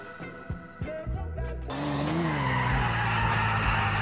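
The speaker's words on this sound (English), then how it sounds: "that was a crispy ass drift" Car drifting in GTA IV, a loud sustained tire squeal with engine roar that kicks in abruptly and holds steady to the end, preceded by brief in-game engine and clatter sounds.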